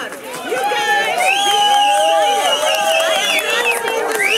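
A large outdoor crowd at a labor solidarity rally in Scranton murmurs and cheers, with a loud voice on the PA over the continuous hubbub, and whistles and shouts rising through.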